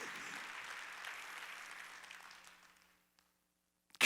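Congregation clapping during a Wednesday church worship service, a brief burst of applause that fades out over about three seconds into near silence.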